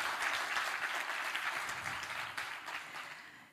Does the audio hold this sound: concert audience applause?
yes